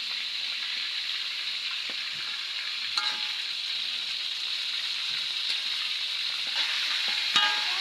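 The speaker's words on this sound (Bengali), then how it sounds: "মুরগির লেগ পিসগুলো লাচি করে ভাজতে হবে।" Chicken leg pieces frying in hot oil in a home kitchen give a steady, dense sizzle throughout, close and even, with occasional sharp pops and clicks of utensils and no talking.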